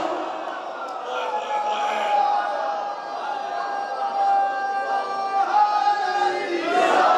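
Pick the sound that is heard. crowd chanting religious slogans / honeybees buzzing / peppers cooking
crowd chanting religious slogans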